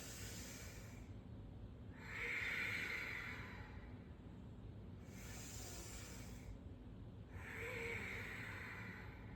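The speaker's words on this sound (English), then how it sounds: "See if you can find that Ujjayi breath." Slow Ujjayi breathing during yoga, close and hushed, with long hissing breaths drawn in and out through a constricted throat, about four breaths in a steady rhythm.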